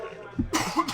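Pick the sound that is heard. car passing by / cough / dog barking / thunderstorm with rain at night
cough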